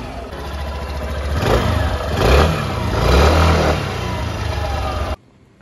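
Suzuki Burgman Street 125 maxi scooter engine revving close up, rising in repeated throttle blips over a steady idle before cutting off abruptly near the end.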